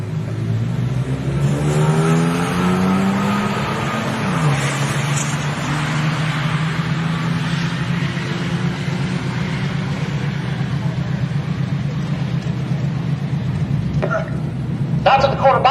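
A BMW and a Mustang race down a drag strip's quarter mile: steady, loud engine roar with rising revs, heard over continuous announcer commentary.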